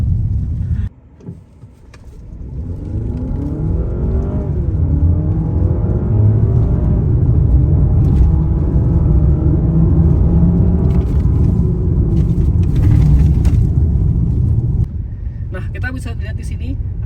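A 2024 Honda Accord Hybrid accelerates hard, its engine note rising in a sustained, loud rumble that swells and holds, heard from inside the cabin.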